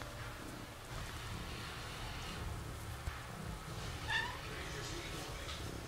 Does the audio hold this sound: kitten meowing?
yes